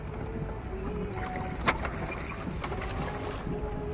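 A boatman rows a boat on a lake in Baguio City, Philippines, under a steady wash of wind and water with a few faint knocks and splashes, and no one speaking.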